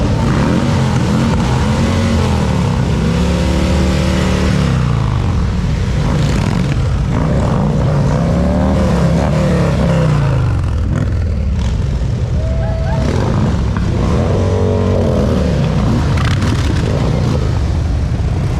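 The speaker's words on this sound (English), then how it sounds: "You're going to hear some Harleys." Loud, continuous roar of Harley-Davidson motorcycle engines revving and rising in pitch as they pass by in a veterans parade, overlapping one another.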